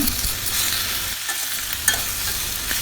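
Carrot with turmeric and salt fries and gets stirred in a pan for Udupi hotel-style sambar, a continuous close sizzle with scraping stirs and a small knock, with no talk.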